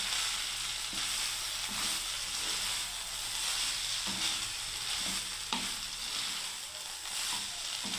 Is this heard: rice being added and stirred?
yes